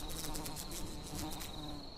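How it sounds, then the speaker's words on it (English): Flies and wasps give a continuous, close buzzing drone with rapid pulsing wingbeats, heard alone without any voices. "flies, wasps, and beetles?"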